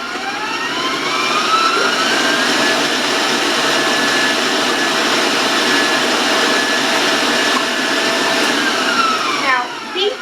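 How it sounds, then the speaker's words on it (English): A stand mixer beats eggs for a sugar-free spice cake, a loud, steady motor whir with a high whine that holds nearly unchanged for the whole stretch, close by and alone, briefly shifting near the end. "So I'm just going to beat those eggs"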